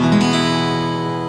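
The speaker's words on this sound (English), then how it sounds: "Now strum down over all the strings." One strummed chord on a guitar, all strings ringing together and decaying slowly.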